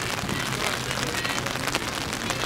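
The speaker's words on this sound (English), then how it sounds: "It's been steady rain all morning." Steady rain falls outdoors at a morning soccer match, a dense, even hiss of drops on surfaces that holds constant and fairly loud throughout, with no voices.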